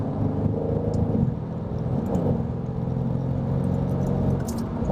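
A Mercedes-AMG C63 S (W205, M177 engine) driven hard gives a steady, low engine rumble with road noise from inside the car, continuous and even throughout without distinct revs.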